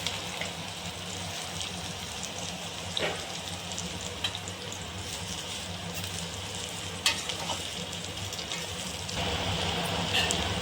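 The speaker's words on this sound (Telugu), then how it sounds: "ఇంకొక 3 టేబుల్ స్పూన్ ఆయిల్ వేసుకొని దీంతో బాగా ఫ్రై చేసుకోవాలి ఫ్రెండ్స్ కాకరకాయ ముక్కలు అనేవి" Bitter gourd pieces frying in oil for pickle, making a soft, steady hiss and crackle that runs throughout, with occasional light stirring clicks and a slight rise in level near the end.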